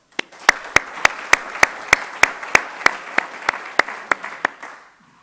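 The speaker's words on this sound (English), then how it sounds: "Please give yourselves a round of applause" Sharp, evenly spaced claps ring out at a university state-of-the-address event, about sixteen strong beats in steady rhythm over light background clapping, as if an audience claps in unison, before stopping.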